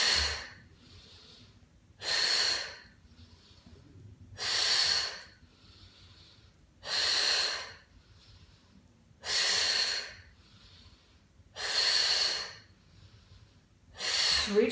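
Deep yoga breaths during a Kundalini exercise, six slow, airy exhalations at steady intervals about two and a half seconds apart, close and fairly quiet with near silence between them.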